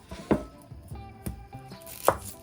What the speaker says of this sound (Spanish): Voy a cortar una cebolla morada